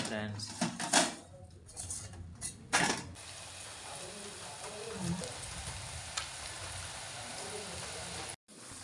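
Pakoda frying in hot oil gives a steady soft sizzle, with a few louder clinks and stirring knocks near the start.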